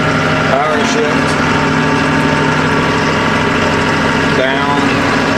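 A 1996 AGCO White 6144 tractor's engine drones loud and steady while it is power-shifted on the move, with brief changes in pitch as gears change, and a voice talks over it.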